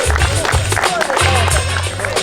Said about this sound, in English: Let's have a big round of applause for the sister of the bride